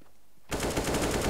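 AUG rifle fire in the video game CS:GO bursts in after a brief quiet moment, a rapid, loud string of closely spaced shots running to the end.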